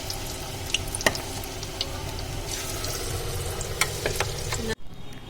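Pakoras frying in hot oil, a steady close crackling sizzle with a few louder pops and stirring clinks, cutting off abruptly near the end.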